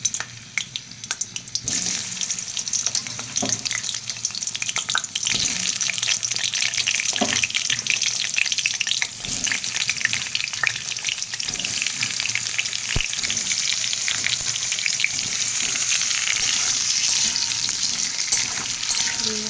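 Potatoes fry in hot oil with a dense, loud, continuous sizzle that holds steady close up, occasionally broken by faint knocks of stirring, and no one speaks.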